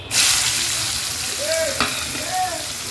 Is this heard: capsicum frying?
yes